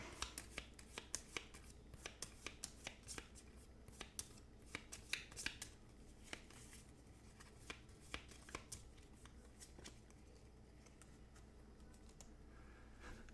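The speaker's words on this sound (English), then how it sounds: "So we got to shuffle our deck up." A deck of cards shuffled for the Aeon's End board game, with quick riffling clicks and flicks repeating steadily across the whole span, close and fairly soft.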